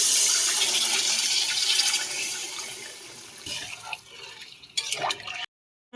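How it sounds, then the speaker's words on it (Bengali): Water poured into a fish curry during cooking, a loud rushing splash that tapers off and stops abruptly near the end. "এবার জল দিয়ে দিই।"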